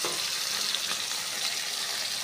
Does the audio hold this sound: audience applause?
no